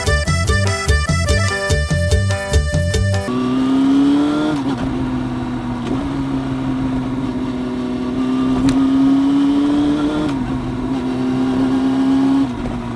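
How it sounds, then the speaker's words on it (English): A car engine drones loudly and steadily as a vehicle drives past, after a few seconds of loud music. "that's a red car"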